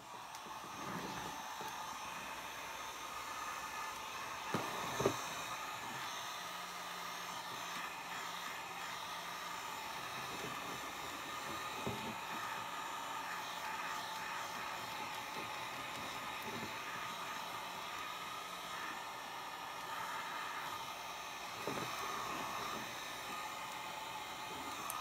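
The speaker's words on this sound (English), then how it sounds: "Okay, I'll get my heat gun." Heat gun blowing over an acrylic paint pour with coconut milk and dimethicone, a steady airy hiss and hum that runs throughout with only a few faint knocks.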